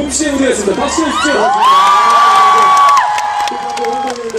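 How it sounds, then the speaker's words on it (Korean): Concert crowd at an open-air dream concert cheering and shouting after a pop performer's stage set, with loud sustained whoops and a dense mix of voices over background music. "박수 주십시오."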